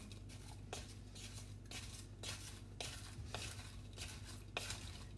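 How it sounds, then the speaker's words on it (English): A wooden spoon stirring a mixture in a bowl while the bowl is turned, giving rhythmic scraping sweeps about every half second, soft and close over a steady low background hum, with no talking. "I just actually turn the bowl as I'm stirring"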